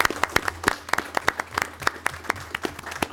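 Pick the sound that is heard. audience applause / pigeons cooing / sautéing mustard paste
audience applause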